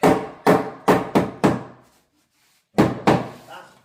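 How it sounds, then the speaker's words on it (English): Hammer blows nailing a wooden floor joist into metal joist hangers during a rotten floor replacement, loud close impacts in two bursts, five quick strikes, a pause, then two more. "we're just nailing the joist to the hangers"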